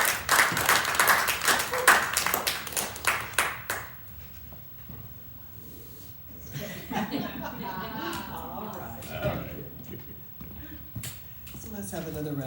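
A spoken word audience at an art gallery applauds, dense clapping for the first few seconds that fades out, followed by a voice talking over faint room noise and a few scattered claps.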